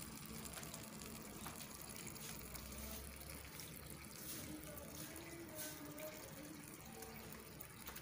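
Tap water gushes steadily from an opened faucet onto a rooster sitting beneath it in the heat, a constant soft splashing stream heard close by and fairly quiet.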